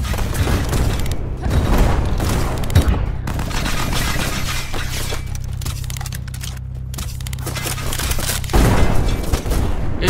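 A rifle in the video game Black Skylands fires projectiles one at a time, producing a dense, loud run of shots and booms that continues through the whole stretch with brief lulls.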